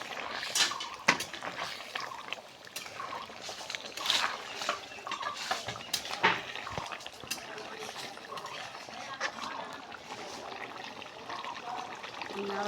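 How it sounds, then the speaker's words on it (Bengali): Pumpkin curry cooks in a pot while the lid comes off and a spoon stirs it, giving soft wet sizzling and scraping with a few sharp clinks. Someone talks throughout. "ঢাকনাটা খুলে একটু নাড়ে দিতে।"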